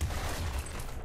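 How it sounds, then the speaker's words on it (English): Corpse explosion in the game Nuclear Throne, a dense rumbling burst of blasts with heavy low booms and crackling debris, continuous and fairly loud with no talk over it. "bigger corpse explosion"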